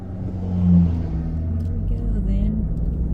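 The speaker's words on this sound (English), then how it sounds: "As soon as this truck here gets past" A heavy truck rumbles close by on a back road, its low engine drone swelling and holding steady as it rolls past.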